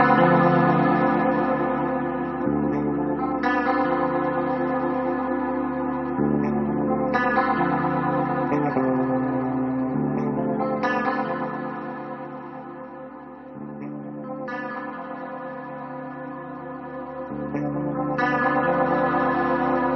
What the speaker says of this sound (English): you can hear as I move that around, it increases the volume, decreases the volume, and positions itself accordingly